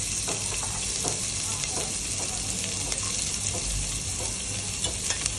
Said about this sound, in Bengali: এবারে আমি পেঁয়াজগুলো ছেড়ে দিচ্ছি। রসুনগুলো ছেড়ে দেব।